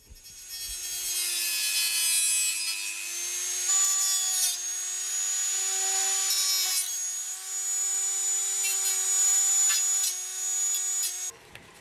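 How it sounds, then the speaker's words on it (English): A Dremel with a cutoff disc cuts through a glider's tail boom, giving a close, loud, steady high-pitched whine. The pitch wavers slightly for about eleven seconds, then cuts off abruptly. "Then cut off the 50mm using a Dremel and a cutoff disc."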